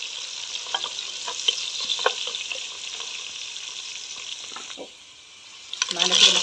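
Garlic and onion sizzle steadily in hot oil in a single pot while making koshari, a continuous bright frying hiss with small pops and occasional stirring scrapes, dropping briefly before rising again near the end.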